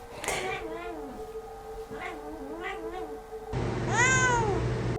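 A house cat gives several drawn-out, rising meows that stand out clearly at the end, while a person talks steadily underneath and before them.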